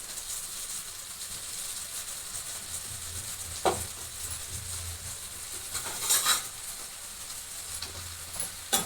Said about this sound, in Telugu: బాగా హై ఫ్లేమ్లో కలిపేసుకున్నాం